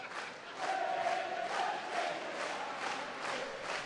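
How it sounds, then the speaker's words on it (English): Nottingham Panthers ice hockey fans cheer and chant in an arena during a playoff game against Fife Flyers, a loud crowd swelling in rhythmic waves, heard from above. "Panthers fans just getting a little bit louder down below us"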